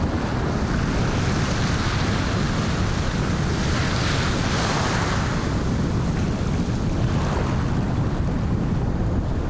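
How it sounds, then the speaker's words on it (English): Steady wash of small ocean waves breaking in the Maldives, with continuous surf noise and wind buffeting the microphone, no voices. "Little waves today."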